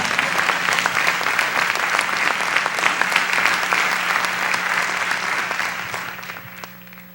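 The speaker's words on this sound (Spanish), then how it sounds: "Dele fuerte esas palmas entonces al Señor" Strong applause from a church congregation clapping for the Lord during a sermon, a dense run of hand claps that holds steady and then tapers away near the end, with a faint electrical hum beneath.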